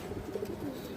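A female pigeon gives a soft, low coo, faint and brief against steady background noise.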